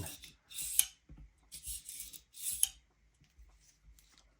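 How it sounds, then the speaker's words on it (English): A single-action revolver's cylinder being loaded, heard as a series of close, quiet metallic clicks and scrapes in irregular short bursts, fading to softer handling noises toward the end. "Now, this is how you would load the weapon as well."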